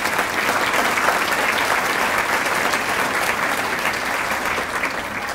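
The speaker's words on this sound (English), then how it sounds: "Please give a round of applause for the foundation." Sustained audience applause fills a Teacher of the Year event in Sioux Falls honouring the school district's education foundation. The clapping is dense and even, with no pauses, throughout.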